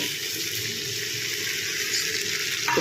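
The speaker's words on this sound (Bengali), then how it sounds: "এবার এই মশলার যে বাকি ধোয়া জলটা ওইটুকু নিয়ে দেবো" Leftover water from rinsing ground spices pours into a simmering ridge gourd and potato curry with mustard-poppy paste, a steady close splash and trickle lasting a few seconds with no talk.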